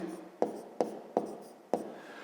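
Pen writing on paper during a fifth-grade maths exercise, four quick scratchy strokes at a steady rhythm, close and fairly quiet.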